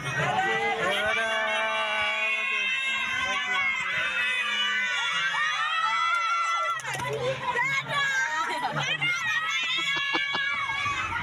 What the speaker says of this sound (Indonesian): teriak-teriak cewek-cewek.